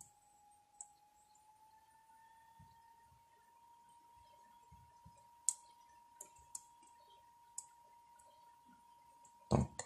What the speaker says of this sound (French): Je clique. Et je cherche un autre point.